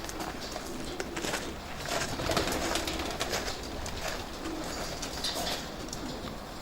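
Pigeons cooing steadily in a breeding loft, several birds overlapping in a continuous low murmur over a busy background hum, with no talk.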